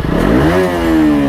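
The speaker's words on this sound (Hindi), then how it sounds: "क्लच प्लेट फंस जा रहा है, साउंड में प्रॉब्लम हो रहा है ना, गुम गुम होता है तुरंत" A motorcycle engine with a sticking clutch plate revs hard up close, a loud rising then steady roar lasting just over a second.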